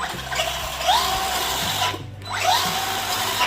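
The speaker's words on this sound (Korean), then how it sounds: "좌우 조향 한번 해볼게요" A hobby-grade RC car's steering servo whirs in short motorized bursts, sweeping the front wheels left and right several times, close and fairly loud with a brief pause midway.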